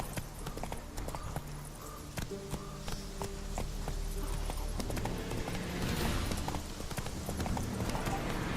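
Horse hooves clip-clop rhythmically in The Witcher 3: Wild Hunt, loud and close, speeding into a faster run partway through, with a faint whinny and other game sounds underneath.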